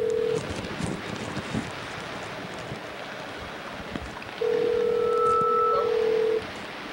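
Telephone dialing tones from a call being placed, a short tone at the start and then a longer steady tone burst with a brief higher tone over it, all against soft wind-like background noise.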